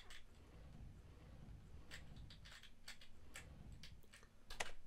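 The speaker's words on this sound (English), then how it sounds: "Enter the king key and turn it. The clock starts ticking." A clock in the horror puzzle game The Witch's House ticks with soft, irregular clicks over quiet background ambience, with no voices.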